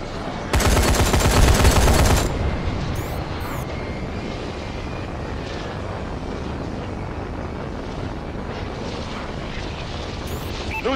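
In a video game, a friendly bombing run opens with a loud burst of rapid gunfire and explosions for a couple of seconds, then gives way to a sustained roaring rumble of battle.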